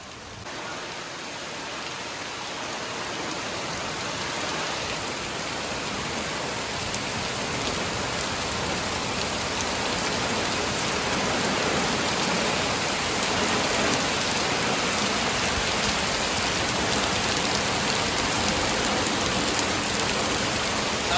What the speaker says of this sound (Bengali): এখন মুসলধারে বৃষ্টি হচ্ছে